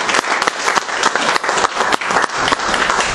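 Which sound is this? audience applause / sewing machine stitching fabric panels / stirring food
audience applause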